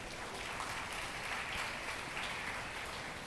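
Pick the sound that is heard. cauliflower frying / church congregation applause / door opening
church congregation applause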